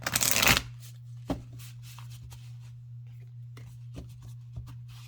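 A burst of oracle card shuffling at the start, then sparse soft clicks and taps of cards being handled over a steady low hum.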